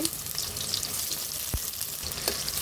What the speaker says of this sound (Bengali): কড়াইতে তেল দিয়ে দিচ্ছি সরিষার তেল পরিমাণ মতো পেঁয়াজ কুচি দিয়ে দিচ্ছি